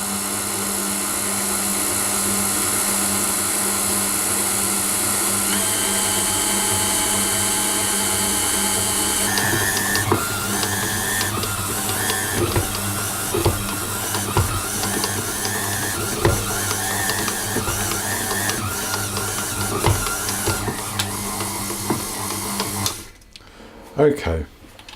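An electric mixer runs steadily on slow speed through Danish pastry dough, a continuous motor whir with faint rhythmic clatter that grows busier midway, stopping abruptly near the end.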